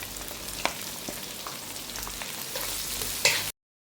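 Chopped onions and green chillies frying in a pan for mushroom pulao, a steady close sizzle with occasional crackles and a brief stirring scrape before it cuts off.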